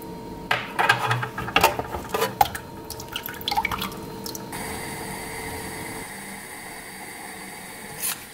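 Water drips and splashes irregularly up close while black or red rice is rinsed for the first few seconds, then gives way to a steady faint hiss of running water.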